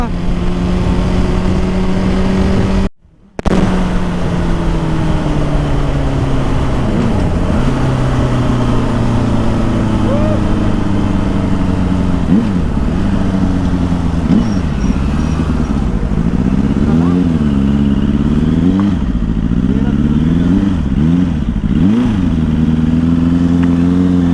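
A Suzuki GSR600 superbike engine drones steadily as it rides on a long road trip in Nepal, its pitch rising and falling with the throttle, loud and close, with one brief dropout near the start.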